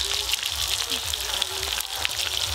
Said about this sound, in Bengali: এই দেখুন সুন্দর করে লাল লাল করে মাছ ভাজা হয়ে গেছে